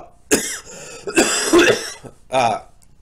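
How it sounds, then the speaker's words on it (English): A person coughs hard and close by in three separate harsh bursts, with throat-clearing rasps between them. "The coughing has not been this bad at all this time around."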